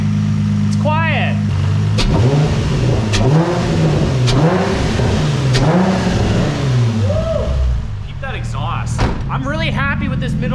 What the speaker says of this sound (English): I can hear the exhaust.